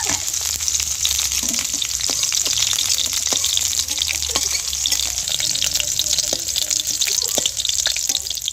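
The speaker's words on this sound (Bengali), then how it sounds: "ঢ্যাঁড়সটা ভাজা হয়ে গিয়েছে" Okra frying in oil in a pan, a dense crackling sizzle that holds steady throughout, dotted with small pops and occasional stirring scrapes, close and clear without any voices.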